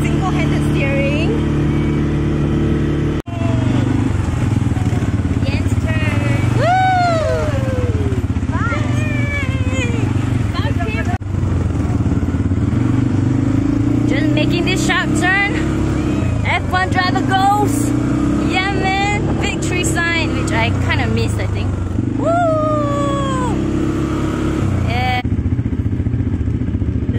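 A car bumps along a muddy resort road at ANMON, Bintan, Indonesia, its engine a steady mid-pitched drone with clatters and thuds from the rough surface, while people chatter and exclaim throughout.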